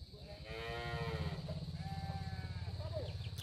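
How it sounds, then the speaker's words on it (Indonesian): Goats and cattle call from a goat shed on a farm slope, several drawn-out bleats and lows overlapping above a constant low engine-like hum. "Ada kandang kambing juga di sini."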